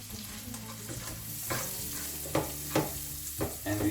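Small chopped onion frying in oil in a pan, a steady sizzle broken by several sharp scraping stirs, close and fairly quiet, with no talking.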